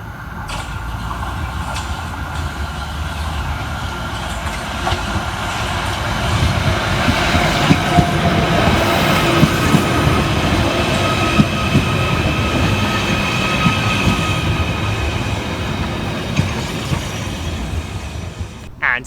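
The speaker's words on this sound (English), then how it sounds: "Next arriving into the station is 777-003 with the 1529 Merseyrail electric service from Liverpool Central through to Chester." Merseyrail Class 777 electric unit 777-003 on the Liverpool Central to Chester service pulls into a station, a steady close rumble of wheels and traction hum lasting about nineteen seconds without a break.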